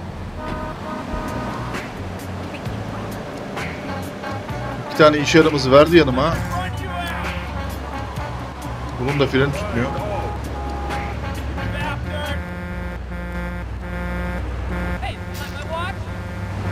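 Car horn honking in Grand Theft Auto 3, several sharp toots clustered mid-clip and again later, heard over a steady engine drone, surf-like ambience and someone talking throughout.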